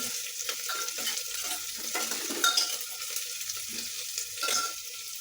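A spatula stirs chopped coriander through a dish frying in a pan, giving steady scraping and sizzling with a louder clatter near the middle. No voices are heard.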